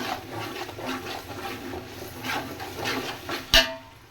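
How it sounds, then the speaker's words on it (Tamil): Mutton pieces being rinsed in water for biryani: steady sloshing and splashing throughout, with a sharp clatter of a vessel near the end. "கறி அலசி எடுத்துகிட்டு வந்துடுறேன்"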